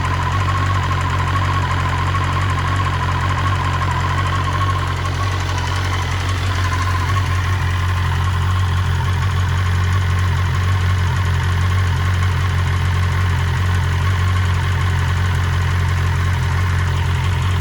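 A 2020 BMW S1000RR motorcycle, Stage 1 tuned, idles after a cold start with a steady, continuous low rumble and a mechanical clatter that holds even throughout.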